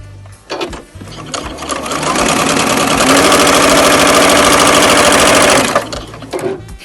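Loud, close sewing machine running steadily for several seconds while joining small fabric scraps right sides together at a short stitch length, with brief handling clatter before and after the continuous stitching whir.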